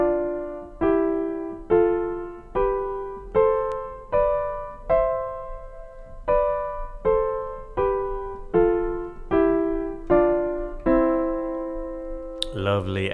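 Piano notes step one by one up the keys, about a dozen evenly spaced tones each ringing and decaying, played slowly and clearly without talk.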